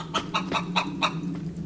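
Chicken clucking in the online video game Fallen Earth: five short, evenly spaced clucks close up, followed by a fainter sixth, over a steady low game hum.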